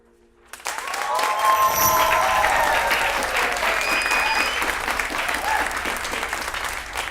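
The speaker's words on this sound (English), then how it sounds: "Well, from that round of applause" A TV game show studio audience breaks into loud applause after a short quiet start, a thick sustained roar of clapping with faint cheering that holds for several seconds and eases slightly toward the end.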